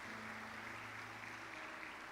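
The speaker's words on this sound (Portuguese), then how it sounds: "Dá um aplauso para Ele bem forte em nome de Jesus." A church congregation claps during a worship service, a steady wash of hand claps heard from a distance, fairly faint, with a low hum underneath.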